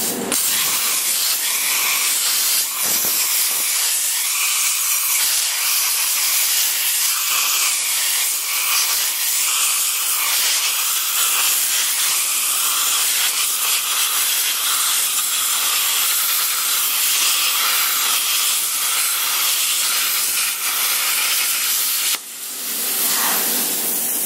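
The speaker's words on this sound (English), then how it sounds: "I'm just going to leave it up on 40 and 80. 40 amps and 40 psi. And do a little cutting." A Longevity ForceCut 40i pilot-arc IGBT plasma cutter running at 40 amps slices through square steel tubing with 188 wall, giving a loud, steady hiss that holds for over twenty seconds and drops briefly near the end.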